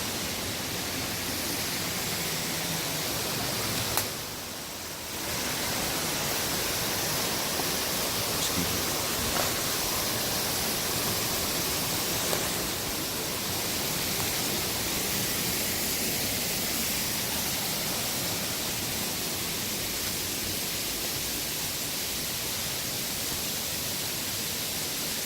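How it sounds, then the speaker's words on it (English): A waterfall in Shenandoah National Park on a backpacking loop, heard up close. It makes a loud, steady broadband roar of falling water that continues without a break, with a brief dip near the start. "Going back behind the waterfalls here."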